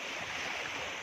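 Ocean surf washing steadily onto the seaside beach at a Tanza, Cavite resort, a continuous hiss of breaking waves mixed with light wind, no voices.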